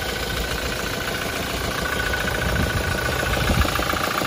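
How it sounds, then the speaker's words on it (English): A 2016 Toyota Fortuner GX engine idling with the bonnet open, a steady close mechanical drone with fine ticking noises running through it, no talking. "Just going to show you the engine bay of the vehicle, just so you can see that there's very funny ticks and noises."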